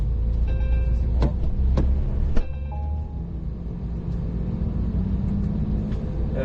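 A Porsche 992 GT3 pulling away at the Magny-Cours club circuit, a steady low engine rumble inside the cabin with a few clicks and brief tonal whines over it, with no talking.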